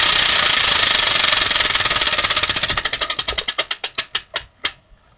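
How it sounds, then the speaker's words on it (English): A prize wheel spun by hand: loud rapid clicking from its pointer that slows steadily, the ticks spreading farther apart until the wheel stops after about five seconds. "let's spin the wheel"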